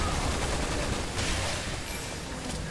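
Dense, continuous gunfire from Resident Evil 6 during a zombie-filled fight: a loud, unbroken barrage of overlapping shots with no clear gaps.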